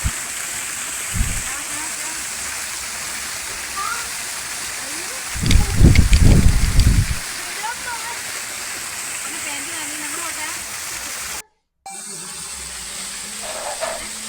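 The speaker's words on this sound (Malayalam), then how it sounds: "നല്ല മനോഹരമായ വെള്ളച്ചാട്ടം" Constant roar of a forest waterfall beside steps up to a treehouse, with a louder splashing burst in the middle and a brief dropout near the end.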